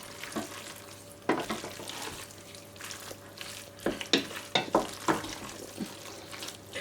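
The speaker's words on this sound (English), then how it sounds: "you want your mac and cheese to have that sound. Like, when you're stirring it" Thick, sticky food is stirred in a pot, making wet squelches and soft scrapes in irregular bursts, close and fairly quiet.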